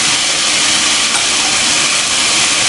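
Chicken frying in a pan for Japanese cream stew, a loud, close, unbroken sizzling hiss that holds steady throughout with no talk.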